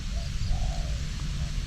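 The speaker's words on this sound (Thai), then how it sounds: "นี่เสียงนกแม่ยังอยู่ไกลๆ" Spotted dove (nok khao yai) cooing far off in a faint, soft series under a steady low outdoor rumble during bird training.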